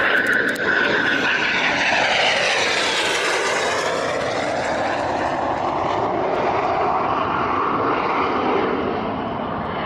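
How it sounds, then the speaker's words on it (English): A T-38 jet makes a high-speed pass at the Oshkosh airshow, a loud, sustained roar that swells and sweeps in pitch as it goes by, then fades slightly, heard alone without talk. "we got gear down on the T-38 and gear back up, which means this is a high-speed pass."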